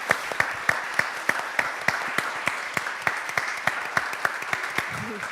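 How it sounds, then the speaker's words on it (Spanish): Audience applause at the close of a comics event talk, sparse individual claps at a steady rhythm in a hall, moderately near, with no talk over it. "lo que hay que acabar es con un fortísimo aplauso"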